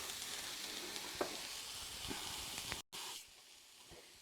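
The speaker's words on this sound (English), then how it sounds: "You just put them there, place them down a little bit, and let them sit there and caramelize." Steaks sear in a hot pan with a dense, steady sizzle close by, broken by a brief drop partway through before the frying hiss resumes more quietly.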